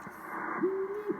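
A crystal calibrator on a Drake R4C radio receiver gives a steady tone of about half a second amid faint receiver hiss and noise.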